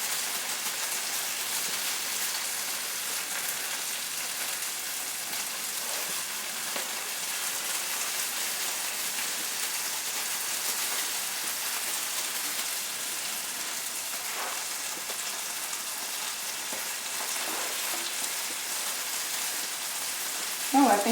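Crab cakes fry in a skillet with a steady, even sizzle, like hissing rain, heard close and throughout, with faint movement sounds near the end.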